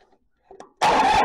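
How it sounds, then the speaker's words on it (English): A tractor engine, started by jumping it with a screwdriver, catches abruptly after a couple of faint clicks and settles straight into a loud, steady idle that runs to the end. "all I gotta do is just get in here with the screwdriver and it will start."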